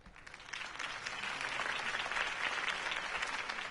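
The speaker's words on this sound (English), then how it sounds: "If only Mr. Wayne, my campaign's largest backer, could have heard that applause" A crowd claps and cheers after a political campaign speech in the Batman Telltale video game, a dense, steady wash of applause that swells slightly over a few seconds, heard alone at moderate distance.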